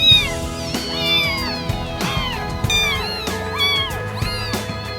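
A cat in a house shared with many cats and dogs meows over and over, loud and close, in a string of rising and falling cries with no gaps of silence.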